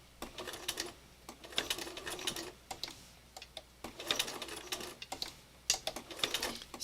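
A sewing machine runs slowly through zigzag stitching, its soft rapid ticking coming in short uneven bursts with brief pauses, close and fairly quiet with no talking.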